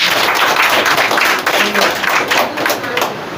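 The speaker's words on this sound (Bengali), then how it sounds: "একটা করতালি" An audience at a formal community gathering in Bangladesh claps together, a dense, loud wash of many hands that holds steady before easing slightly toward the end.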